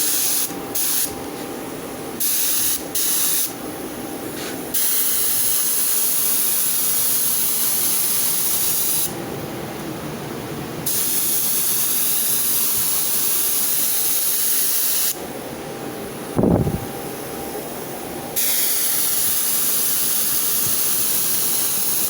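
A spray gun lays paint onto a repaired, welded and primed Ranger box in short hissing bursts that stop and restart, with a few longer steady passes and one brief bright knock partway through.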